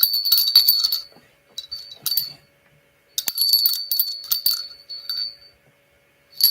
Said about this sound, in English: Oh, my bell start working again.